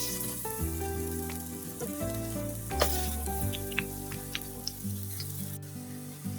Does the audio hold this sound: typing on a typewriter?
no